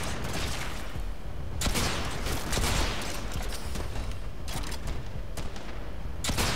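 Gunfire in the video game Warframe, dense rapid bursts of shots repeating in loud clusters over a continuous background of game noise.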